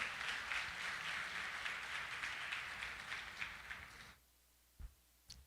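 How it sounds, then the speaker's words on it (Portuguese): A church congregation applauding during a worship service, a sustained burst of many hands clapping that fades out near the end, followed by near silence broken by a few isolated knocks. "Se você vai aplaudir, dá um aplauso muito forte ao Senhor nessa manhã"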